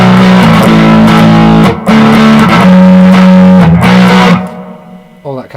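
A heavily distorted electric guitar played through a Blackstar HT-5 tube amp plays chunky sustained chords up close, loud and grungy, then cuts off and fades to a brief ringing tail.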